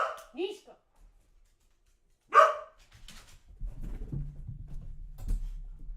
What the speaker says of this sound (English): The dogs are going crazy, of course.